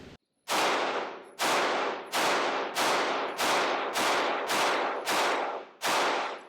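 A Turkish-made handgun fired rapidly at a range: nine sharp, loud shots in quick succession at about two-thirds-second intervals, each with a ringing decay, no talk.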